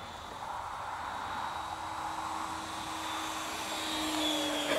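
A Venom Cat 70mm EDF model jet on 6S power flies slowly at low throttle, a steady, smooth ducted-fan whine and rush heard from some distance that swells slightly near the end.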